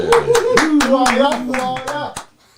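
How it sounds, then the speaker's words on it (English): Audience clapping to greet a football legend guest on a talk show, a few seconds of sharp, fairly loud hand claps that end abruptly, with speech-like tones running underneath. "We always like to give our guests the clap"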